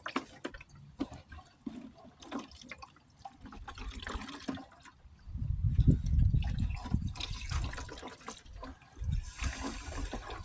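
Water splashes and gurgles steadily as it drains out of homemade liquid clay, swelling into a fuller pour midway, with light drips and no voices.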